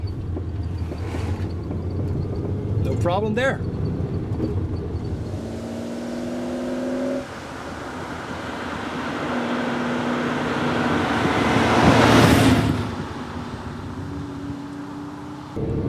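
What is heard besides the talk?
car passing on a country lane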